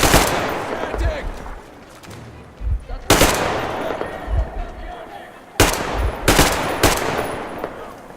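Bursts of automatic gunfire in the video game Metro Exodus crackle in loud rapid volleys separated by short pauses, with game voices speaking between shots.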